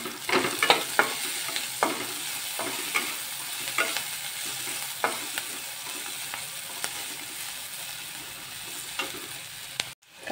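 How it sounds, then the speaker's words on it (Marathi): Chopped onion with added salt sizzles and fries steadily in a pan, with scattered clicks and scrapes of stirring, moderately quiet and alone with no talk. "कांद्यात मीठ घातल्यामुळे कांदा आपला पटकन भाजला जातो."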